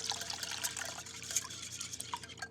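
Three-quarters of a cup of strong, room-temperature coffee trickles and splashes into chocolate cupcake batter, a soft, close liquid pour lasting a couple of seconds with faint dribbles.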